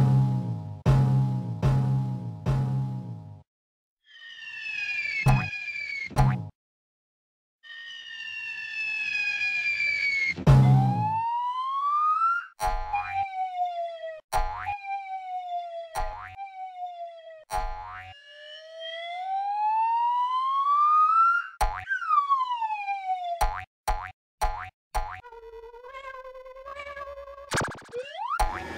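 A children's cartoon ambulance, a monster-truck style emergency vehicle, sounds a cartoonish siren of rising and falling wails, mixed with bouncy boings and sharp clicks, with short pauses between sequences.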